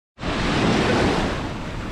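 Sea waves wash onto a New York City beach in a steady, loud rushing roar that swells in quickly and holds, with no voices.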